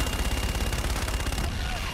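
An aircraft strafes on a gun run in Call of Duty: Infinite Warfare with a continuous, loud, rapid-fire roar of cannon bursts. The firing is dense and rumbling, then thins slightly near the end.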